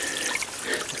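A steady rush of falling water from a waterfall, close and continuous, with no other sound standing out.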